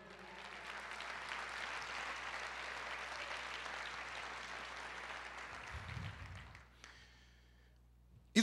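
Church congregation applauding in praise, a steady dense wash of clapping that carries on for several seconds, then thins and fades out near the end.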